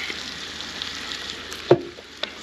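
Tomato sauce hits a hot pan with a soft, steady sizzle that hisses faintly and evenly throughout, punctuated by one sharper spit near the end.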